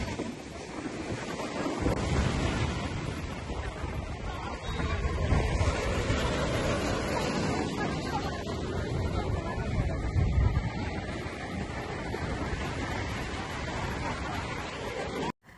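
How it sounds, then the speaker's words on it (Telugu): Ocean surf rolls in at Vizag beach in the evening, a continuous loud wash of breaking waves mixed with heavy wind buffeting the microphone, swelling and easing over about fifteen seconds before cutting off. "కళ్ళు మూసుకొని అలలు చేసే ఈ శబ్దాలని వినండి"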